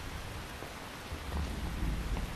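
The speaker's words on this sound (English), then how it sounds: "You can entertain me until the rain stops." Rain and thunder in the Metal Gear Solid 3 video game, steady heavy rainfall hissing on surfaces while low thunder rumbles and swells toward the end, with no talking.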